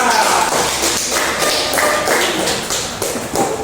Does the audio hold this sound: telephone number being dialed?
no